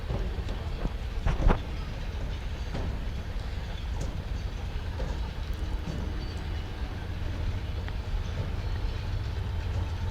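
Train rolling past a high school track meet, a steady mid-distance rumble of wagons with faint clickety-clack and scattered clanks over ten seconds.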